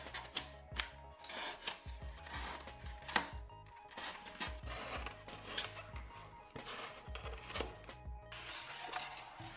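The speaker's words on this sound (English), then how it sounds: "how to cut foam like this" Foam is cut and shaped by hand for a cheap tabletop diorama, giving faint, close scratching and slicing strokes in an irregular rhythm with short pauses between them.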